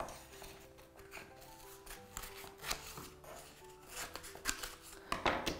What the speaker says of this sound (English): Grab your scissors and you're gonna make two cuts